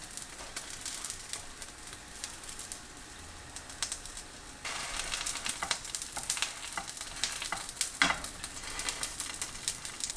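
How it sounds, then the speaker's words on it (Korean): King oyster mushroom jeon topped with sliced chili pan-frying for a holiday meal, a steady close crackling sizzle of oil throughout that grows louder and busier about halfway, with sharp spitting pops and faint bird coos in the background. "앞뒤 노릇하게 구워지면 고소하고 쫄깃한 황제버섯전 만들기 끝!"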